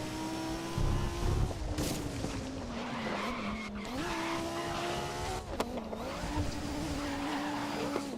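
Race cars in the Grid video game roar along with a sustained engine drone, shifting pitch as they accelerate and brake, with tire squeals and skids over a continuous loud mix.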